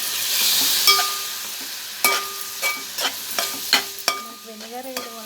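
Egg fried rice with soy sauce is tossed in a pan, and a spatula clanks and scrapes in a dozen or so sharp metallic strikes over a soft sizzle, close up with no voices.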